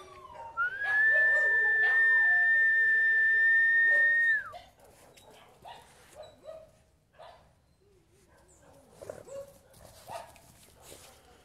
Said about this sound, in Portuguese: os cachorros aqui da vizinhança estão bastante agitados